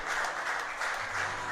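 A church congregation applauding together, a steady wash of many hands clapping in a pulsing rhythm, moderately loud and continuous, with no clear speech over it.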